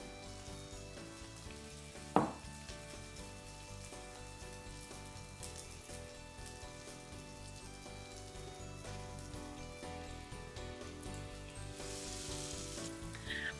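Carrot, courgette and halloumi burger patties frying in a pan, a steady soft sizzle with one sharp clack near the start as a patty goes in, faint and continuous under background music.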